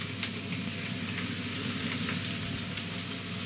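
Red spring onions and chicken brown in a cocotte with a loud, dense, continuous sizzle and faint stirring underneath, close and unbroken, with no voices.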